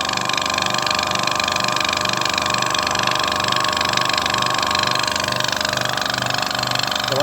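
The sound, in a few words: Dry-Pac Pro compressor filling and pumping air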